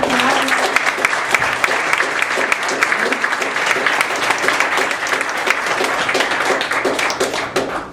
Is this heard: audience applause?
yes